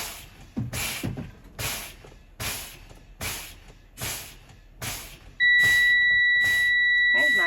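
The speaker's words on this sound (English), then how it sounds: "My warning lights have come on and my alarm is sounding before 55 PSI." Truck air brakes being pumped for a low air pressure warning check: a run of rhythmic hissing air bursts, then a loud, steady buzzing warning alarm comes on before pressure drops to 55 PSI and keeps sounding under the continued hisses.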